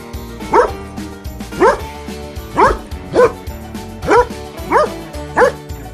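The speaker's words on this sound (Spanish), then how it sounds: "el clásico ladrido que todos conocemos" A dog barks in a regular series of about eight short, loud barks over a background music bed.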